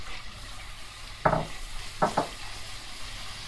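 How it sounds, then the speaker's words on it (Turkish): Faint sizzling of minced meat and chopped onions frying in a pan, broken by a few short scraping stirs of a utensil. "Karıştırıyorum."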